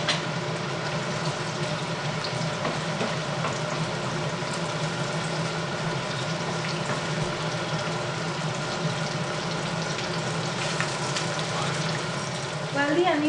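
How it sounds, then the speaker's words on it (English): Steady sizzling and bubbling of onions sautéing in a pan for palak paneer, a continuous close hiss with no talking. "While the onions are frying,"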